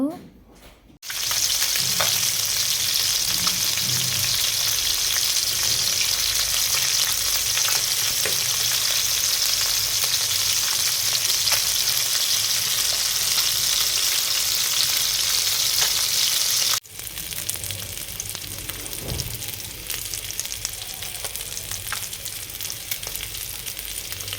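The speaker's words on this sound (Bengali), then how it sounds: "একটা কড়াইতে তেল গরম দিয়ে মাছগুলোকে ভেজে নেব" Loud, continuous sizzling of fish frying in hot oil in a pan, steady throughout with a brief drop partway, no voices.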